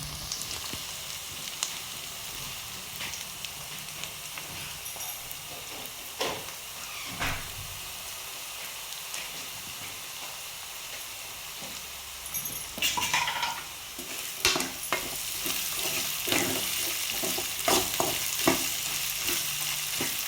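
Onions frying for chicken curry, a steady sizzle under intermittent stirring with scrapes and clanks of a spoon against the pan, growing louder and busier toward the end, no talking.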